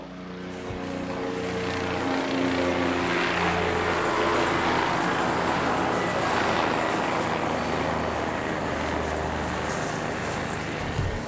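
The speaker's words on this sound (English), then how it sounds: "this helicopter has been flying over top of us for about 20 minutes now" A loud, steady helicopter rotor drone hangs close overhead at a resort, a throbbing low hum with a broad whooshing wash that holds for the whole stretch, no voices.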